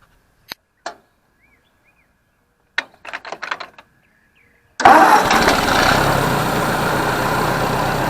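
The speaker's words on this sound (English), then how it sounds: "And it cranks easy." A Ford 641 Workmaster tractor, a field find being revived, gives a few clicks and clunks, then cranks briefly and fires into a loud, steady rumbling idle that continues to the end.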